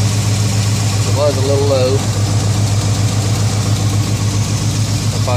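Chevrolet C10 truck engine idling steadily with a constant low hum throughout, while someone speaks briefly over it.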